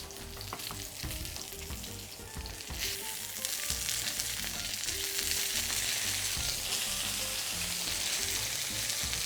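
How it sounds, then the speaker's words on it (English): Fennel roasting in a hot pan gives a steady, close sizzle and crackle of frying, constant throughout and growing slightly louder partway, with no voices. "my fennels are nicely getting golden brown."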